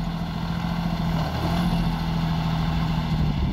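John Deere 5310 tractor fitted with a dozer blade running at steady revs, a low continuous diesel engine hum at moderate distance with no talk.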